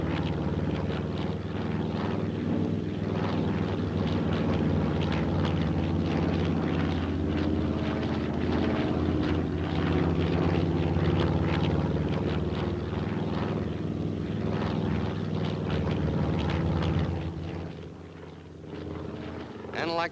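A propeller airplane drones steadily and loudly near a flying field, a continuous engine hum that barely changes, with someone narrating over it throughout.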